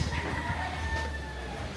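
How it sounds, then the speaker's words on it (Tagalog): Chickens kept as backyard poultry cluck and crow in a steady, fairly faint outdoor chorus, with a constant background hum beneath them. "Dami mong alagang chicken, Yanis ah."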